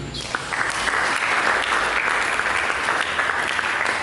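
A church congregation bursts into sustained applause during a sermon, a dense, steady wash of clapping that holds for several seconds at full strength before tapering slightly.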